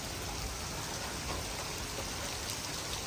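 Steady rain falls over a Pathan village, a dense, even hiss that holds without pause, with no voices.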